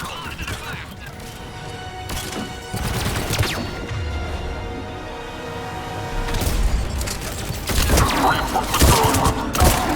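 Battle noise from the video game Mass Effect 3: bursts of gunfire and heavy explosive booms arrive in clusters over a constant rumbling backdrop, with radio-style voices talking over the combat.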